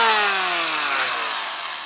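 A power tool sands yellow Halfords filler primer on a 3D-printed Master Chief helmet indoors. A close, loud abrasive hiss runs throughout while the motor's whine slides steadily downward in pitch as it slows.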